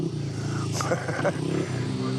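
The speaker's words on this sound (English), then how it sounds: "Just watching me boy try and kill himself on a motorbike." Motorbike engine droning from a short way off, with a brief rise in revs in the middle, while someone talks nearby.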